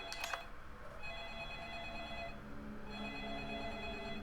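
A phone rings in the video game Deadly Premonition, two electronic bell-like rings separated by a short pause, fairly quiet and alone.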